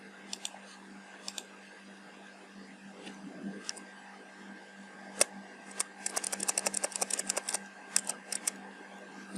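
Computer keyboard typed at close range while entering a Laravel artisan command in a terminal: sparse single key clicks at first, then a quick run of rapid taps, over a low steady hum with no talk.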